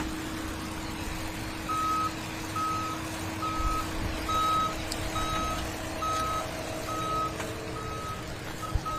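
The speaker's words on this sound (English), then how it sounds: "Well, trucks are loud down there, Jake," Pulling trucks idle and reverse in the staging area of a truck and tractor pull in Napoleon, Ohio, with a low, steady engine rumble and a regular reversing beep repeating roughly every second, fairly distant.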